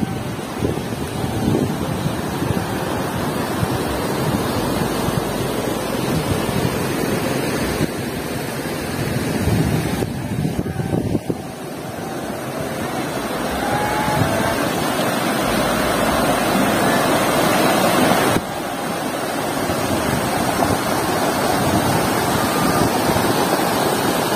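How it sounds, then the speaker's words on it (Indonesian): Water rushes in a stream beside rice fields at the edge of a forest, a steady broadband outdoor roar with some wind buffeting the microphone, continuous and fairly loud throughout. "airnya juga curcor ngagulidag sahabat tuh"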